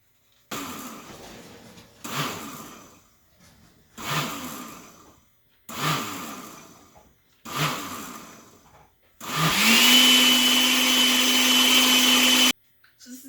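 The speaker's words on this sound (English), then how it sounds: "I'm going to run this through the blender to blend in and puree all those peaches." Blender pureeing hot peach barbecue sauce in five short pulsed bursts, then one long steady high-speed run of about three seconds, loud and close with no talking.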